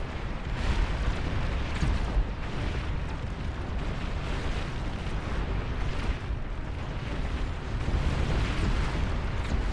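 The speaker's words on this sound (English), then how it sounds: "Fire the launchers" Missile launchers fire en masse in the real-time strategy game Beyond All Reason, a dense, continuous roar of rumbling blasts and booms that never lets up for the full stretch, no voices.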